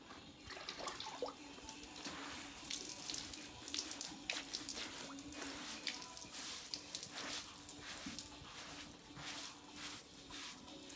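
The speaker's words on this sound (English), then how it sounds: "So I've got my warm water and my sponge." Warm water sloshes and trickles steadily as a sponge washes a horse's neck and mane, a close, continuous wet splashing with dripping and squeezing, no talking.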